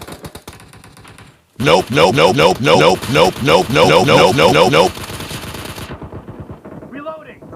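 Rapid automatic M4 rifle fire in PUBG Mobile, a loud close burst of evenly spaced shots lasting about three seconds, followed by quieter game sounds and a brief spoken word.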